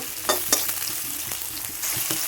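Potatoes and vegetables fry with a steady sizzle in a pan while being stirred, giving a few sharp scraping knocks of the spoon against the metal over the continuous hiss.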